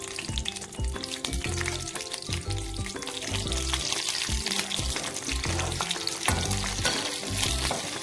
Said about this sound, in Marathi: तेल टाकून घेऊया आपण थोडस आपल्या मिरच्या टाकून घेऊया आपण